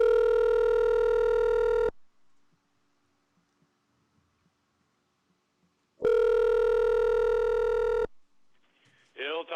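Two loud, steady electronic ring tones of a telephone line, each about two seconds, sound during a prank call, separated by about four seconds of near silence, followed by a brief faint voice.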